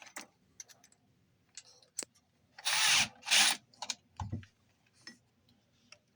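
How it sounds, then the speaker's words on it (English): Two short bursts from a power drill with a smaller bit boring out a rivet, close and loud, set among quiet clicks and taps of handling the tool. "go back to our drill. I think this time we're going to use our smaller bit."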